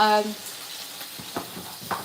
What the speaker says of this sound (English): We are frying this baby